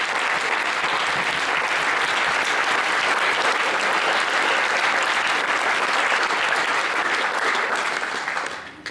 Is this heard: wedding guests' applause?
yes